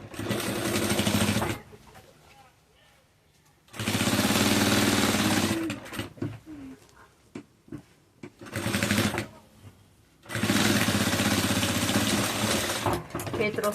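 Sewing machine stitching a seam on a Kombi-shaped travel case, running in three loud, steady bursts separated by pauses with soft handling noise.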